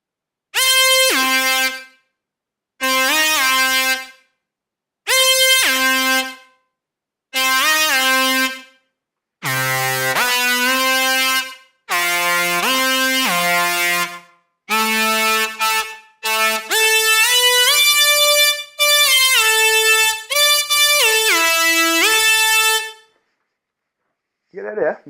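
An electro lead patch built in Native Instruments Massive blares bright, brassy, horn-like notes. It starts as separate stabs, then moves into a faster run of changing pitches, loud and dry, with no talking.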